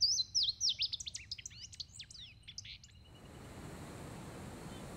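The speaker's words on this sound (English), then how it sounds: "the male birds begin to sing" Male songbirds sing in spring, a rapid string of bright, high chirps and trills close by for about three seconds, then fading into soft, steady background noise like distant surf.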